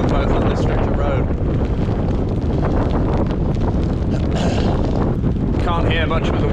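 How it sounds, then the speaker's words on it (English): Strong wind buffets the microphone while cycling along a road on a wet Christmas Day ride toward Ynyslas, a loud, constant roaring rush with gusty surges. "Can't hear much with the wind, just got to keep slugging."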